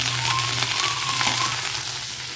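Cauliflower sabzi sizzles steadily in a hot pan in a home kitchen, an even close crackle of frying throughout with no voices.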